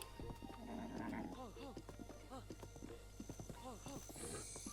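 A horse whinnies and its hooves clip-clop in The Legend of Zelda: Breath of the Wild. Several short neighs rise over rhythmic hoofbeats, and speech is faintly mixed in.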